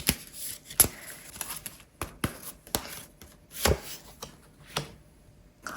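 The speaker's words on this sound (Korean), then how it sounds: "카드 섞어볼게요" Tarot cards are shuffled in quick, irregular bursts of crisp riffling and slapping, close and fairly quiet, with short pauses between the flurries.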